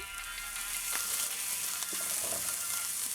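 Garlic frying in hot oil for a Trinidad-style eddoes talkari, a steady close sizzle with soft crackles and faint stirring, no voices.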